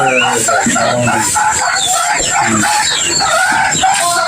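Chickens cluck and squawk close by on a farm with goats and sheep, a rooster-like call mixed in, over a busy, noisy background.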